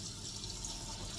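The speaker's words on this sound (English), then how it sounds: "put enough water here to cover the beans" Tap water runs into a pot to cover beans for an Instant Pot, a steady close hissing splash with no talk.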